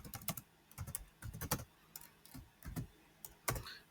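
Quick bursts of keystrokes clatter on a computer keyboard, irregular clusters of taps with short pauses between, close and fairly quiet with no voice over them.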